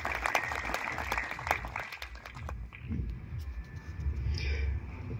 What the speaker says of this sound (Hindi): तो उसका ताली बनता है